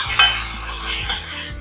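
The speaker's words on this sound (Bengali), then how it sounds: "এইবার যে মাটন সেদ্ধ করে রেখেছিলাম সেগুলো দিয়ে দিচ্ছি।" Boiled mutton goes into a sizzling, oil-separated spice masala for a Bengali mutton curry and gets stirred, giving a steady close fry hiss with scraping spoon strokes and a sharp clink near the start.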